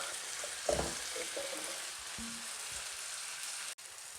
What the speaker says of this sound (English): And our tomatoes are also cooking on this other end.